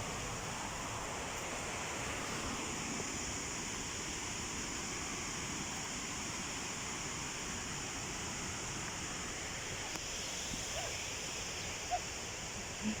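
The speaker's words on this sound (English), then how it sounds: "this is where the water flows from" Steady broadband rush of water flowing over and down a rock outdoors, continuous and moderately loud with no voices over it.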